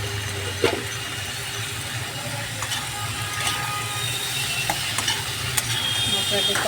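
Spices for a Bengali fish curry, including salt, sugar, and ground coriander, cumin and ginger, are stirred and fried in a pan, giving a steady close sizzle with scraping stirs and occasional utensil clicks throughout.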